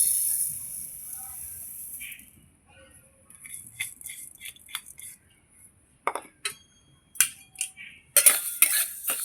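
Mung dal dry-frying in a wok over a stove, with intermittent scraping, stirring and clinking of a spatula against the pan in short bursts, quieter stretches between, near and fairly loud.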